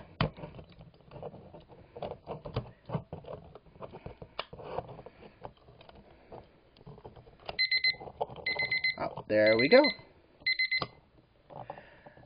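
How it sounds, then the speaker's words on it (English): Quiet shuffling and clicking, then a series of short electronic beeping bursts from a Beast Wars Neo Heinrad toy robot alarm, with a brief spoken remark in the middle. "And that was his alarm feature."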